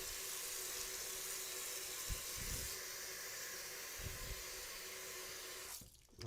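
Water running into a sink while something is rinsed and washed under it, a steady close hiss and splash that cuts off near the end.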